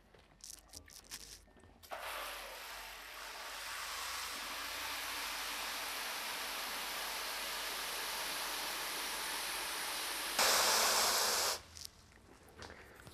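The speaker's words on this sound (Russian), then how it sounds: "ведро наполняем, ведро фильтрованной водой" Filtered water pours into a bucket in a continuous rushing stream, near and steady, briefly louder toward the end before stopping.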